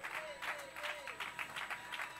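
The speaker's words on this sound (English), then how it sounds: "clap your hands and shout unto God" A church congregation at a Sunday celebration service claps hands in a steady rhythmic beat, heard from a slight distance, with a voice rising over the clapping.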